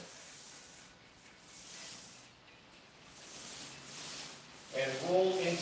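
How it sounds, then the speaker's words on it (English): A paint roller spreads epoxy across a garage floor, a faint, continuous sticky hiss and rub in slow repeated strokes, with a voice speaking briefly near the end. "And roll into the other spots where you rolled, overlap."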